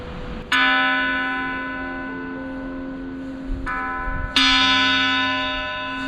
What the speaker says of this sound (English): They actually don't know why there's a bell here, but we're allowed to ring it